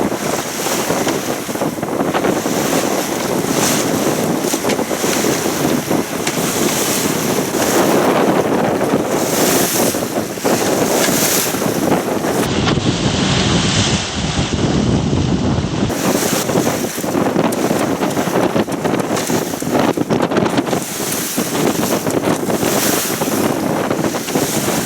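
Rough sea with waves and strong wind buffeting a sailboat motoring along the Croatian coast toward Korčula, loud continuous wind roar and wash of water with heavy microphone buffeting throughout.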